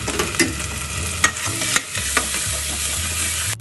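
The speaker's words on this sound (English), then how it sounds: "we quickly put in 1 teaspoon of ginger, 1 teaspoon of garlic, and we saute it again." Chopped onions, ginger and garlic sauté in a hot pan for a Malaysian murtabak filling, giving a steady close sizzle broken by a few sharp stirring scrapes, with no talk.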